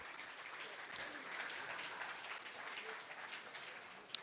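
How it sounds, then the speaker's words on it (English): A conference audience applauds a panel at an international financial leaders' investment summit, a soft, distant, even wash of clapping filling the room at low level with one sharper clap near the end. "Once again, big round of applause."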